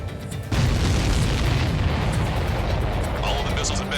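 A missile strikes its target in the Ace Combat 7 flight game, setting off a loud, sustained explosive roar after a short quiet lead-in, with a voice briefly heard.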